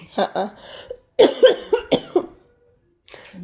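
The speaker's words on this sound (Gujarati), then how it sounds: "કર લે ઉધરસ ખાઈ લે" A person coughs several times in short bursts, with a pause between two clusters, close and fairly loud.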